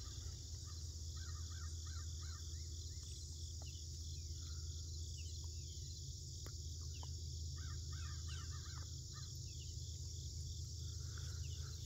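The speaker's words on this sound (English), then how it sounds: "Crows out there making a bunch of noise." Crows caw in scattered bursts at sunrise in the Ozarks, moderately distant, over a steady hum of crickets and insects with other birds calling faintly.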